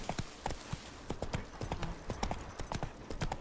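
Roach the horse clip-clopping along a path in Witcher 3, a steady run of crisp hoofbeats close by, heard alone with no talk.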